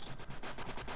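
Rapid automatic gunfire from a firefight in the Roblox game Apocalypse Rising, a dense burst of repeated shots filling the whole second at close range.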